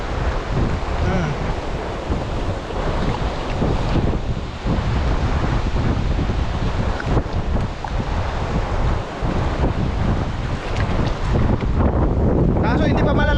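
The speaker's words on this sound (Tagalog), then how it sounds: "Ang lakas oh, dagat." Strong sea waves surge and crash, heard close up as a loud, continuous roar mixed with heavy wind buffeting the microphone.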